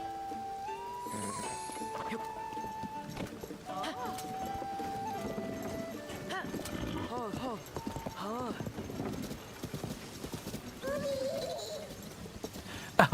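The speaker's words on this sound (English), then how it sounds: "Why did that Korok decide to neigh?" In a Zelda video game, a horse-like neigh and whinny comes from a Korok amid clip-clopping hooves and other game sounds, with a person talking over much of it.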